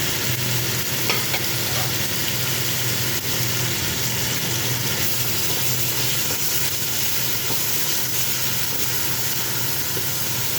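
Coarsely crushed ginger and garlic with tomato pieces fry in a pan, giving a loud, steady, close sizzle with faint stirring throughout and no voices.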